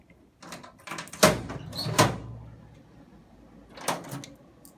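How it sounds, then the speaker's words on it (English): The lower door of an SSBT self-service unit is opened: a faint click, then two sharp metallic clunks about a second apart, and a softer latch knock near the end, all close and alone. "Open the lower door."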